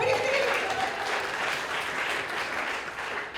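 A live festival comedy crowd breaks into steady applause to vote in a show of hands by clapping, a fairly soft, dense patter of many hands that thins slightly near the end.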